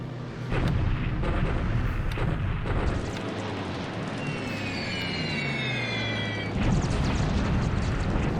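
A torpedo strikes the British battleship Repulse in a WWII Pacific naval wargame: loud, rumbling booms and bursts of blast noise, with a cluster of rising whistle-like tones midway before another heavy burst.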